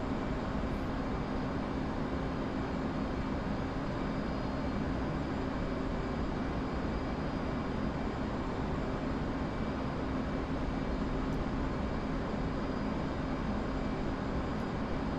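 An F/A-18C jet in the DCS World flight simulator, flying carrier operations, gives off a steady, unbroken engine roar at even loudness throughout, with no voices.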